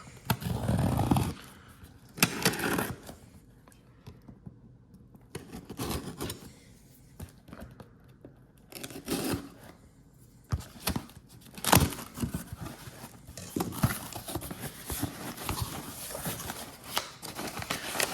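Cardboard and plastic packaging of a Casio G-Shock Square limited edition watch box being opened by hand, with irregular crinkling, tearing and rustling bursts between quieter pauses.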